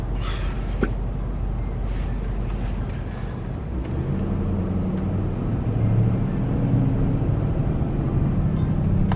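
A Ford Mustang driving past on a cold road, heard from inside a vehicle as a continuous engine rumble that swells louder midway and stays close, with no talking.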